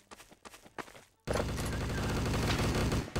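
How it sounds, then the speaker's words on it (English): Gunfire in the Trouble in Terrorist Town video game: a few scattered shots, then a sudden dense, loud burst of continuous rapid fire that fills the rest of the moment. "Who's shooting?"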